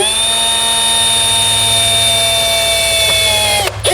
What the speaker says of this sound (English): we can grab the self-tapping screw out of our kit along with the 1/4-inch nut driver, and I'm going to go directly into the body here